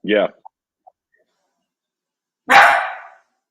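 A single short dog bark rings out close by, following a brief child-like vocal burst at the start and a pause of near silence.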